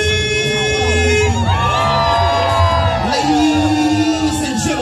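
A loud audience at a poetry performance screams, whoops and cheers in a sustained roar, voices overlapping continuously throughout.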